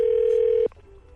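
A telephone dial tone holds as one steady, close electronic tone, then cuts off abruptly, leaving faint line noise.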